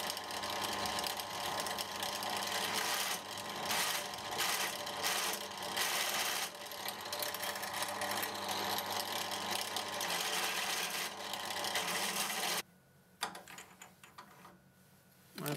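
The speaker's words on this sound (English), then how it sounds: "To finish the insert, I went ahead and countersunk four holes." A drill countersinks holes in a bandsaw table insert, its dense whirring grind running steadily for about twelve seconds before cutting out into brief quieter handling sounds.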